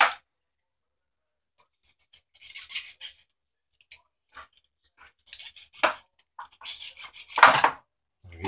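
Knife cutting through a whole slab of barbecue ribs for a July 4th cookout, giving a few scattered scraping and slicing strokes up close. A louder burst of cutting comes near the end, with no talking.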